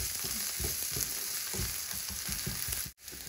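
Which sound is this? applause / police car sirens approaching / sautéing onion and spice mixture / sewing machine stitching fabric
sautéing onion and spice mixture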